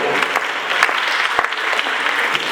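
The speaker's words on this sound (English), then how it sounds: "let's welcome them with a clap offering" A church congregation claps continuously and evenly throughout, a dense, close wash of hand claps with no talk over it.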